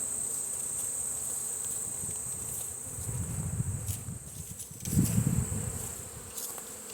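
Honey bees buzz around an open hive during fall requeening, a steady swarm hum with a few louder passes close by, over a constant high insect drone.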